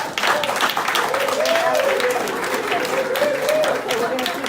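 A conference audience claps steadily and loudly throughout, broad dense applause with a voice audible underneath.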